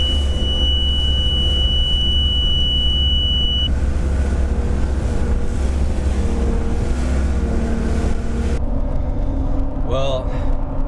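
A Johnson 200 hp outboard engine runs at about 4,000 RPM, a loud, steady drone with wind rush; the pitch drops near the end as the engine slows, and a voice speaks briefly.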